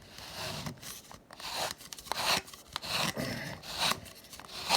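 A Ridgid or Rothenberger pipe cutter scoring a 50mm tube, giving close, repeated scraping and rasping strokes with short crunchy bursts as the blade bites in and starts shaving a curl of metal.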